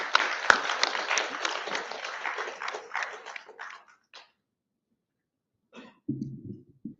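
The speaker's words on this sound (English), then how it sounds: "let us give a round of applause to Mr." Audience applause welcomes keynote speaker Wayne at the POWERCON2022 conference keynote session: dense, steady clapping for about four seconds that fades into near silence, followed by a faint low hum.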